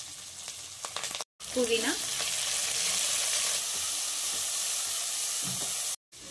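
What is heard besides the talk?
frying masala, ginger garlic paste, curry leaves and mint in pan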